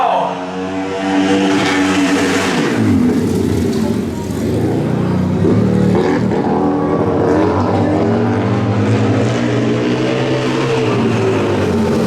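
Race cars roar around the fairground oval track in a loud, continuous drone of engines that swells and fades as the pack passes, with a commentator's voice faintly audible beneath.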